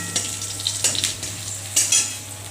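Cumin seeds and bay leaf fry in hot oil in a pan, giving a soft close sizzle broken by a few short stirring scrapes.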